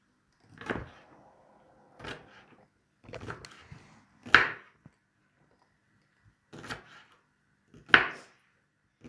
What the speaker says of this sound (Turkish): Yeşil soğanlarımızı doğradık.